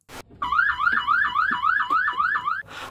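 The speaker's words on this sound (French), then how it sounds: "L'alarme du bateau s'est déclenchée." A boat's alarm goes off at night, a loud, steady two-tone warbling siren that rises and falls rapidly and repeats without pause, heard alone with no talking.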